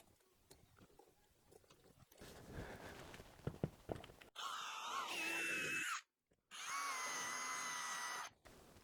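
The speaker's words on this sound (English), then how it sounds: "Next I need to drill a slightly bigger hole into these ones." Power drill widening a slightly bigger hole, with tape used as a depth marker: quiet handling noises give way to two sustained whirring runs of the motor, loud and close, separated by a brief pause.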